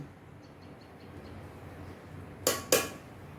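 Biryani ingredients for chicken biryani being mixed in a metal pot, two sharp metallic clinks of a utensil against the pot near the end after a quiet stretch of low background hiss.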